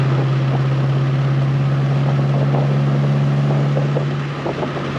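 Steady engine drone of an abandoned Honda Civic cruising at part throttle, with a constant low hum and road and wind noise heard from inside the car.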